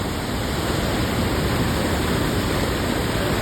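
Water pours steadily over an overflowing weir after heavy rain, a dense, continuous rushing roar that stays close and loud throughout, with no voices.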